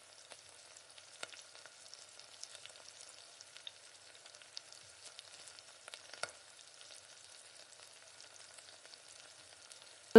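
Mustard, cumin and fennel seeds splutter in oil in a pressure cooker, giving faint, steady crackling with scattered small pops and no voices.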